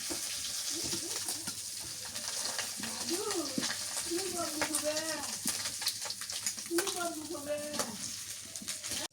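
Onion frying in hot oil makes a steady, close sizzle and crackle throughout, while a person talks over it in the middle.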